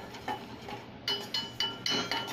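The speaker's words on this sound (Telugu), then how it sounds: "జీరాని వేసి కలుపుతూ" A spoon stirs cumin seeds frying in a pan. Soft metallic scrapes and clinks come in short strokes, growing a little stronger toward the end, quiet and close with no talking.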